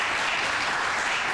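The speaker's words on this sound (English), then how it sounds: "So how about a big round of applause?" An audience at a Great Race awards ceremony in Pittsburgh gives a loud, continuous burst of applause with many hands clapping at once, steady and unbroken, with no voices over it.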